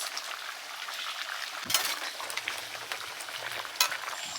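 Meat for biryani bubbles and sizzles in a pot, a steady dense crackling hiss with a few sharper pops, close and alone.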